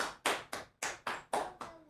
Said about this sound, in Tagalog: Sabi nung isa, pumalakpak siya, nakababa yung kamay